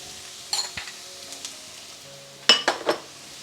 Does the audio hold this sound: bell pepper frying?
yes